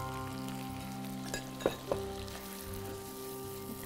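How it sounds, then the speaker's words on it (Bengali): Ginger garlic paste, chopped tomato and whole garam masala frying in a pan, a steady soft sizzle throughout with a couple of brief clinks of a utensil partway through. "আদা রসুনের পেস্ট দিয়ে দিব 1 টেবিল চামচ পরিমাণ, সাথে দিয়ে দিব টমেটো কুচি, আস্ত গরম মশলা দিয়ে দিচ্ছি"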